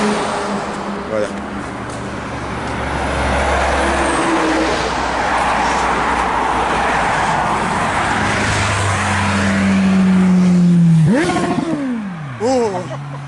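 A police car drives past close by, its engine noise swelling as it nears and falling away after it passes, with low road rumble underneath and brief voices at the end.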